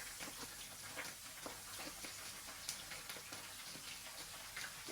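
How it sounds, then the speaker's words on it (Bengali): Tangra fish frying in hot oil give off a steady, faint hiss and sizzle with small irregular crackles and pops, continuous throughout and with no talk. "তো আমি মাছগুলো দিয়ে দিলাম ফ্রাই করার জন্য।"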